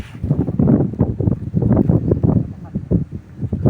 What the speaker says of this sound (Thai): ลมพัดเย็นสบายครับ